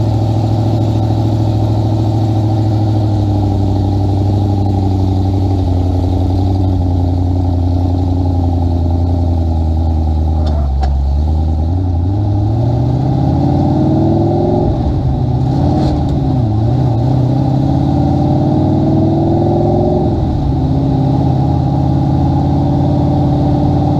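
A sand limo with a blower motor idles loudly and close with a steady low rumble, then revs up in rising sweeps several times before settling back, heard alone without talk.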